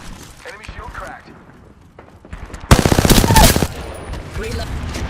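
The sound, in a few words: gunfire in the video game Apex Legends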